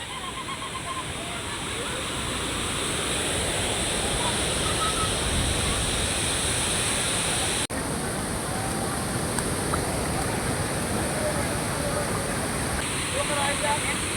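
Water rushes and pours at an outdoor river or waterfall spot where people are putting on life jackets, a loud, steady broadband roar filling the whole stretch, with a brief knock partway through.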